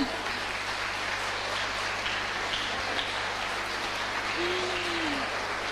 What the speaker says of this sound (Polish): Ja poproszę Państwa, to jest taka moja dygresja, o wielkie brawa dla Pana Darka.